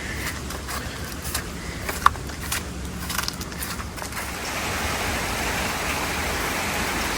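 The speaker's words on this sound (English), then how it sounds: "The rain hasn't let up for 48 hours." Continuous heavy rain pours down during a cyclone, a steady broadband wash that swells louder in the second half, with a few faint crackles and drips scattered through it.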